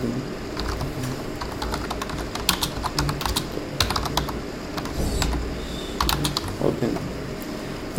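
Typing on a computer keyboard, a steady stream of close, crisp key clicks in irregular bursts with occasional louder keystrokes, continuing throughout.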